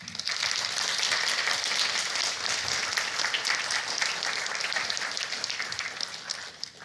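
Sustained audience applause after a conference keynote on crafting self-evident code in D, a dense, steady clapping from a large crowd that holds at even loudness for about seven seconds before easing slightly at the end.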